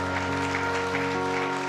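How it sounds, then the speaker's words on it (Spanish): A church congregation applauding together, a steady wash of clapping over sustained musical tones, continuous and fairly loud throughout. "Alguien déle un aplauso fuerte al Señor."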